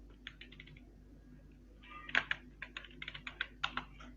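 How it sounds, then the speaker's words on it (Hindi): A computer keyboard clatters as a command is typed, a short burst of keystrokes, then a pause, then a second busier run of quick clicks, close and quiet with no talk. "तो हमें टाइप करना होगा शो कलेक्शंस।"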